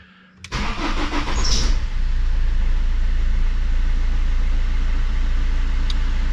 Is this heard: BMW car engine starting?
yes